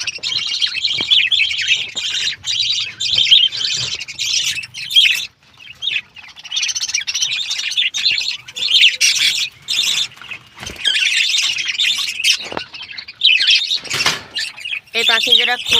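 Pet birds in a new coop chirp, tweet and squawk almost continuously, close and lively, with short pauses between bursts of calls.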